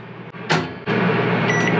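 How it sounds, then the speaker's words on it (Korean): A microwave oven in a camper van, powered through an inverter, starts after a short clunk and then hums steadily and close, with a loud continuous drone. "먼저 전자레인지 뭐라도 한 넣어볼까요?"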